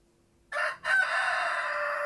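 A rooster crows once, loud and fairly close: a brief opening note, a short break, then a long drawn-out call.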